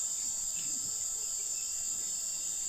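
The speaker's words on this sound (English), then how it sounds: "maybe we can hear all the beautiful sounds of the jungle" Night in an Amazon jungle village, a dense, continuous high-pitched chorus of crickets and other insects trilling at steady volume, with faint low rustles beneath and no voices.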